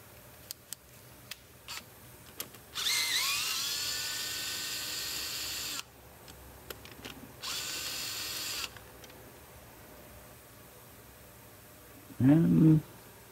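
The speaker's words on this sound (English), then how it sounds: "crack them loose and then use a drill to take them out" Cordless drill spinning out spark plugs on a Volkswagen Jetta GLI during a misfire check, two steady whirring bursts of about three and one and a half seconds each, close and fairly loud, with a short clunk near the end.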